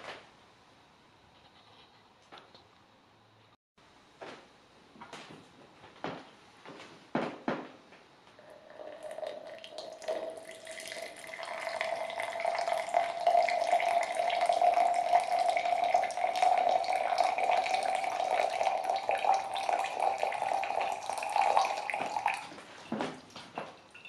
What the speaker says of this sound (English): now I will put a rest of 200 grams of water divided on three parts